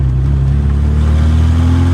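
A Tofaş Kartal SLX engine revs hard on wet ground during a failed burnout attempt, a loud, steady low drone that holds for the whole stretch with no voices.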